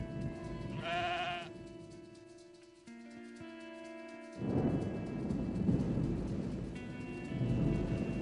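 A sheep left alone in a yard at night gives a short bleat, followed by rumbling thunder and steady rain that swell louder partway through.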